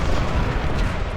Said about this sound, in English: We're getting charged by 3 different artillery units.